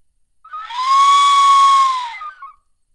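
A dog whistle slowed down 80 percent: a single sustained whistle tone, low and smooth with a breathy hiss, swelling in, holding steady for about two seconds, then fading out.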